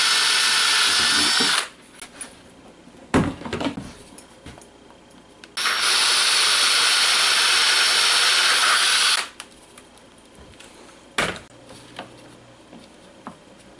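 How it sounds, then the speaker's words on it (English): A power drill bores into PVC pipe in two loud, sustained whirring bursts separated by quieter pauses with faint handling and clicks. "when you're drilling PVC, you want to make sure you use a really small bit first"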